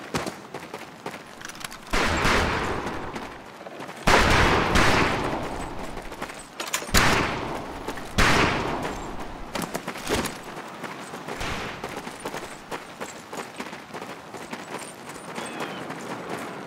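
Rifle gunfire crackles across a shooting range during training in the World War II game Medal of Honor Pacific Assault, with several loud, close shots spaced seconds apart over a continuous background din.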